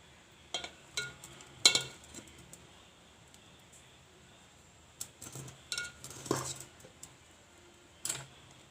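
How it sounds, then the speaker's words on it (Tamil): Boiled vegetables are transferred into another dish, with sparse clinks and scrapes of a utensil against metal and crockery in short bursts, separated by near silence and quiet overall. "இப்போ வந்து நான் இந்த அவித்த மரக்கறிகளை வந்து இந்த வேற ஒரு டிஷ்ஷுக்குள்ள வந்து மாற்ற போகிறேன்."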